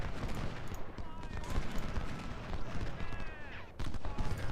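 Ultimate General: Civil War game battle with 10-pounder Parrott cannons and massed rifle fire, a dense crackle of shots and booms rolling continuously at moderate loudness, with someone talking over it.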